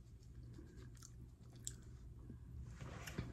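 Someone chews a crunchy snack up close, soft irregular crunches and mouth sounds over a low steady background hum, quiet and with no talk.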